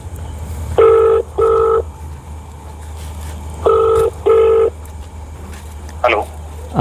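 Two paired bursts of phone dialing tones sound close by as a call is placed to a customer, each pair a short steady two-tone beep, followed by a brief chirp near the end.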